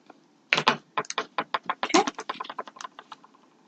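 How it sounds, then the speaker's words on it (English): Layered origami paper is creased and folded while making a paper crane, giving a close, quick series of crisp crackling snaps and rustles that stop and start over a few seconds. "these are my favorite seams to do because the paper gets really noisy"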